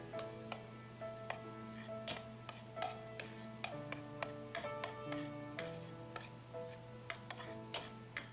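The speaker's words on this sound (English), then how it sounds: "You see the oil turn into the golden yellow color and mix well with the paste." Chili bean paste frying in hot oil for Sichuan shui zhu pork, with a steady sizzle under repeated sharp clinks and scrapes of a spatula stirring against the wok; no talk.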